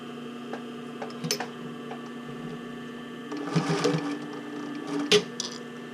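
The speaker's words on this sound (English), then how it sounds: "I'm going to go work and start sewing the other side." A sewing machine stitches a bra cup overlay in short, uneven bursts, its motor whirring softly between a few louder runs and small clicks, close by in a quiet room.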